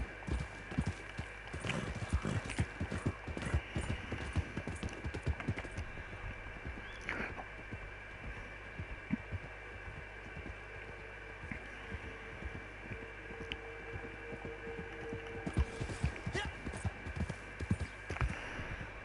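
Horse hooves clip-clop steadily in a video game, a quiet, even rhythmic trot that runs throughout over a low hum.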